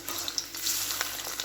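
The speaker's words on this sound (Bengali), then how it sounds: "এইভাবে আমি সব চিকেনগুলো ভেজে নেব।" Chicken pieces fry a few at a time in hot oil for chilli chicken, giving a steady close sizzle with small crackling pops throughout.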